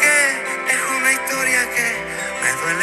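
A Colombian vallenato-pop song plays loud and dense, with sung vocals over a full band mix, steady throughout.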